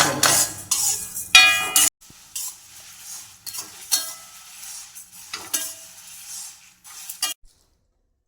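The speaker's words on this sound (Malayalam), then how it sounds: "വറുത്ത് നന്നായിട്ട് ചൂടാക്കി എടുക്കാം." Pickle masala roasting dry in a hot pan, with a spoon scraping and stirring in repeated short bursts, some louder clinks against the metal, then pauses and a near-silent ending; nobody speaks.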